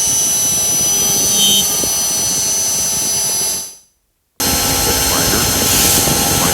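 A high-speed rotary cutter spinning near 30,000 RPM sharpens a star corner with a loud, steady high-pitched whine and grinding hiss. The sound cuts out abruptly for a moment, then returns just as strong.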